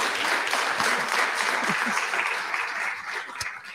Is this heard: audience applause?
yes